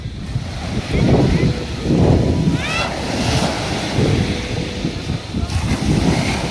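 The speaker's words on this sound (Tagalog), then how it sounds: "Oh, mataas ang alon, no?" Surf at a free beach in Carles, Iloilo, Philippines, rolls in as broad repeated washes of high waves under steady wind noise, with people talking nearby.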